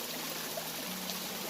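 Clean spring water flows in a forest creek, a soft, continuous babbling trickle that stays steady and fairly quiet.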